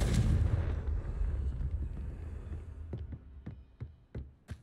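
A Confringo fire spell in Hogwarts Legacy erupts in a loud, rumbling blast that fades, followed by several sharp, distinct cracks of spell impacts spaced out near the end.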